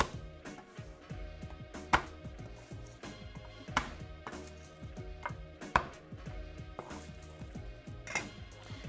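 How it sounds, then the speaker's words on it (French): Large knife blade slammed onto garlic cloves on a board, a series of sharp knocks and chopping impacts in an irregular rhythm, close and crisp, with a few louder whacks standing out, no talk. "avec un grand couteau, on tape dessus"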